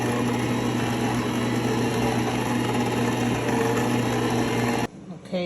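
Stand mixer with a paddle attachment beating butter and sugar until smooth, a steady loud motor whir with a constant tonal hum that runs unbroken and then cuts off abruptly near the end.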